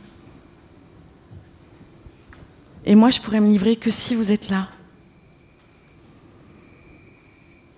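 A cicada keeps up a steady, high, continuous buzz beside a crackling campfire at an evening gathering. It carries through the whole stretch, while someone talks loudly over it for a couple of seconds in the middle.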